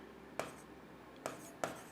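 A pen or chalk writing on a board, three short, quiet scratchy strokes spaced apart in an otherwise hushed room.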